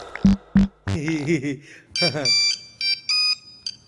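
An electronic phone ringtone plays in repeated bursts of bright tones, preceded by a voice speaking and a couple of short thumps.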